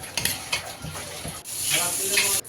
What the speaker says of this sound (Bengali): আর মাছ ভেজে নিচ্ছে।